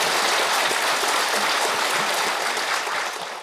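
A crowd at a Buddhist memorial service and abbot installation ceremony at a Korean temple gives strong, dense applause in honour of former abbots, steady and loud before easing slightly at the end.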